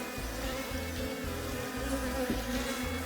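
Steady, dense buzzing of many bees of a swarm in a nucleus hive close by, a continuous droning hum with no voices.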